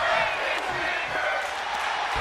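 A digital pro wrestling show's crowd keeps up a dense, steady roar of chanting and shouting, loud and continuous throughout, with no single voice standing out.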